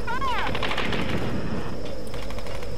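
Rapid automatic gunfire bursts in Tomb Raider 2013, dense and loud throughout, with a whooping electronic tone near the start and layered game ambience underneath.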